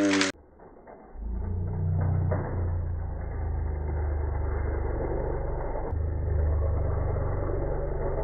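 Hot Wheels toy cars racing head to head down a downhill plastic track: a brief blip, then a steady, close rolling rumble of small wheels that continues with little change.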